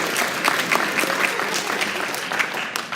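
An audience claps steadily for about three seconds, a loud, dense patter of many hands with no voices standing out.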